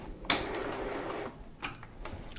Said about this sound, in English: So press and hold it until you hear some movement, and then the cartridge carrier should pop out